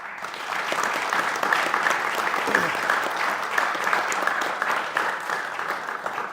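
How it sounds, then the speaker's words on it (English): Audience applause for parents at a Milton Academy athletics signing ceremony: a loud, continuous wash of many hands clapping together, sustained evenly throughout with no voices standing out. "you guys deserve a round of applause"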